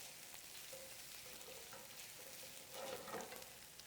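Thinly sliced shallots sizzle softly in a pan as they are moved around, a low steady frying hiss with faint scrapes and a slightly louder stir near the end.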